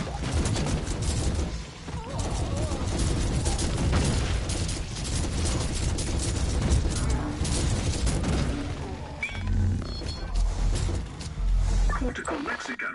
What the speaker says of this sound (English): That's a lot of damage from an Alpha cannon.